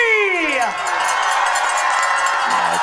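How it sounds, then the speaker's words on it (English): A high school football crowd at an Edgar versus Colby Marawood Conference game cheers and makes noise for the camera, with loud whoops and shouts over a steady roar; a falling whistle-like cry opens it and a cowbell-like clank sounds near the end. "I want everybody to turn to the camera, cheer, wave, make some noise"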